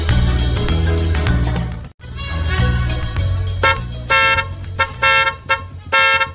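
A car horn blares loudly and repeatedly, starting with long sustained blasts and then breaking into a series of short rhythmic honks.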